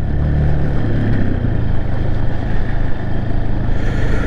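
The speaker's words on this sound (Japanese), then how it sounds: "まあこのエンジン音で判断していただければ。" An off-road motorcycle climbs a moderate uphill stretch of paved forest road on the Izu peninsula, its engine droning steadily and loudly up close with a low, continuous rumble and no speech.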